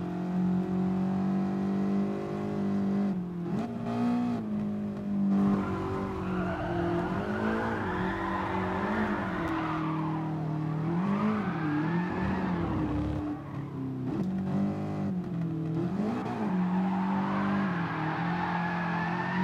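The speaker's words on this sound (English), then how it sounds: "drifting on this game is a bit tricky" Simulated race car drifting in Gran Turismo Sport, with a steady engine drone that rises and falls through the revs and long tire squeal, continuous and loud with no talking.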